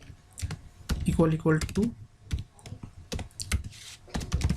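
Code is typed on a computer keyboard in quick, irregular bursts of crisp key clicks, close and moderately loud, with someone talking briefly in between.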